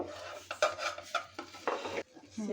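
Shapla pitha being lifted from a large frying pan: a series of close scraping and clinking utensil strokes against the pan, with faint frying underneath and no talking.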